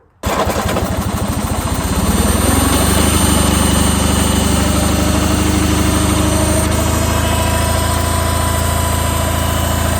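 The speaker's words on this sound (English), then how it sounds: "So I'm gonna go do a little startup on the tractor" A Steiner tractor engine cranks and fires after a brief silence, then settles into a loud, steady, close idle that runs unbroken to the end with no voices.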